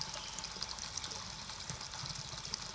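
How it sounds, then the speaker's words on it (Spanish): Spring water running from a fountain during a trail run, a continuous bright splashing flow close by with no voices over it. "he tenido ya que cruzar el río para llegar a esta fuente"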